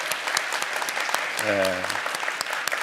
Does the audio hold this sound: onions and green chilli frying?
no